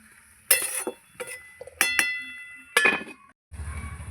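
A metal lid goes onto a cooking pan of frying flat beans outdoors. Several bright clinks and rattles ring out at uneven intervals, then a lower sizzling hiss follows once the pan is covered.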